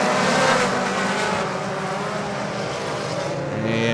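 Front-wheel-drive four-cylinder race cars lapping Thunder Mountain Speedway in a feature race, a dense, loud engine roar that holds steady and swells slightly as the pack passes.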